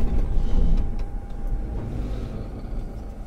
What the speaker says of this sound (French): Ça c'est du freinage.